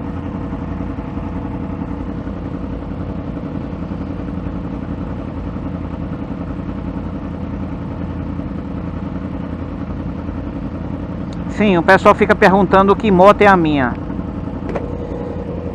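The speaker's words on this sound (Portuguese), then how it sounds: "a minha moto é uma R1 2016, uma R1S" A stock 2016 Yamaha R1S sport motorcycle engine hums steadily and low under someone talking, its drone continuing evenly throughout.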